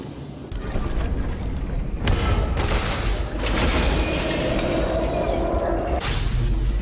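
Loud, sustained gunfire and booming impacts fill a video game scene set at a fancy party, with dense bursts running almost continuously and brief dips between volleys.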